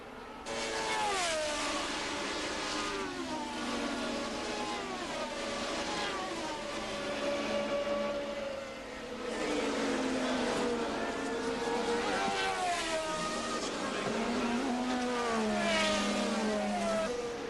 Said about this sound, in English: Jones is right behind him and sneaks brilliantly between the two Renaults. Now it is Prost chasing Jones